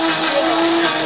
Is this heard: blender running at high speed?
yes